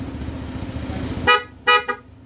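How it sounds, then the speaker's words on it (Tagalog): A Honda PCX 160 scooter idles with a steady rumble, then two loud, brassy aftermarket horn blasts sound close by, the second longer. "Sa switch po natin sa loud horn po."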